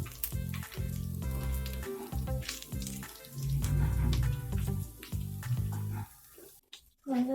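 Spices and ginger crackling and frying in hot oil in a pan during home cooking, a steady sizzle with bursts of sharper spattering, close and fairly loud, fading briefly near the end.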